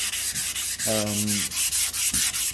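Steady back-and-forth scraping of a sanding block over primer with dry guide coat on a car body panel, rhythmic strokes repeating close up, with a brief whining tone midway.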